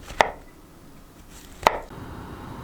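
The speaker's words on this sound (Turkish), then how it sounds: "Dört tane mantarı" Two sharp, close knife chops through mushrooms on a cutting board, about a second and a half apart, over quiet room hush.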